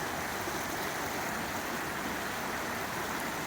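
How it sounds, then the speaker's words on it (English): The Credit River stream flows through a city park, a steady broadband rush of moving water that stays constant and even throughout with no voices. "Natural flow of water"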